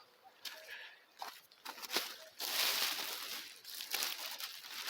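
Plastic mulching film for a sweet potato bed crinkles and rustles in irregular bursts, close by and fairly quiet, with a longer sustained crackle midway through and no voices.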